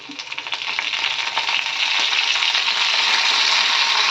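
Mustard seeds, cumin, garlic, dried red chillies and curry leaves for a brinjal-tomato chutney tempering crackle in hot oil, a loud, dense sizzle that swells within the first half second and then holds steady and close.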